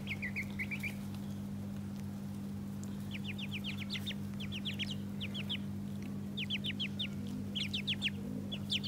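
Chickens cluck in a grassy garden, giving repeated short, bright calls in quick bursts over a steady low mechanical hum, fairly close and moderately loud.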